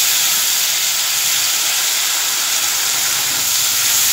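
Onion paste hits hot oil already crackling with nigella seeds, producing a loud, close, steady hissing sizzle with no pause.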